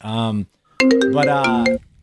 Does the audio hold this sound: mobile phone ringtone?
yes